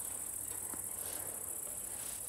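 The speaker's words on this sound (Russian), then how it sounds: "Сверчки поют, трещат." Crickets chirp steadily at sunset as a constant high, shrill trill, faint and continuous, with no voices.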